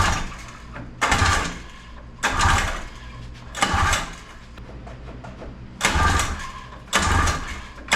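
A 1982 Honda Odyssey engine cranks in repeated bursts. About six loud, rhythmic starter pulls are separated by short pauses, and the engine never catches.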